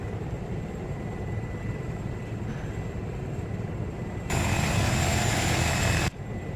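Helicopter rotor and engine drone in a military flight video game, a steady loud whine and thump throughout that swells sharply for a couple of seconds before dropping back.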